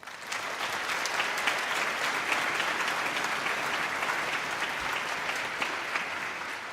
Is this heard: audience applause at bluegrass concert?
yes